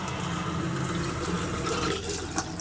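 Water runs steadily from a newly installed RV bathroom faucet without an aerator, a continuous close hiss and splash filling the whole stretch with no talk.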